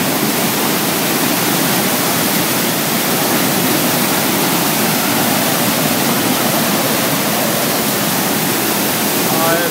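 Heavy water flow pours over the Fotlandsfossen waterfall in a loud, continuous, close roar of rushing water that stays steady and unbroken throughout.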